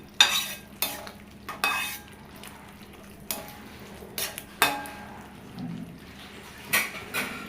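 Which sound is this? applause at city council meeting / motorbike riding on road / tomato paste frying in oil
tomato paste frying in oil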